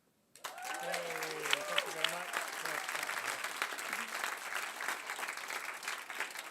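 Audience applause for the judges at a science communication competition semi-final, starting abruptly and continuing steadily as a full hall claps, with a voice speaking briefly over it near the start.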